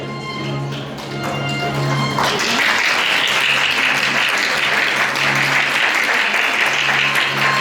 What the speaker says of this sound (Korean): 반지가 끼워지는 순간순간마다 축복의 박수로 함께 축복해 주시길 부탁드리겠습니다